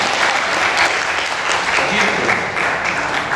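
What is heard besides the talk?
audience applause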